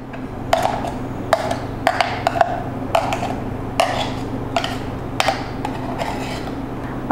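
Ground fennel is mixed into syrup in a metal pot, with a spoon clinking and scraping against the sides in irregular strokes over a steady low background hum.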